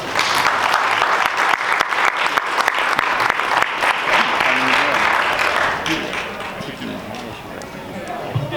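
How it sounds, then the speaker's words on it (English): Audience at a boxing post-fight press conference applauds loudly in a dense, continuous burst that fades after about six seconds, with voices audible beneath it. "applause for Mikaela May."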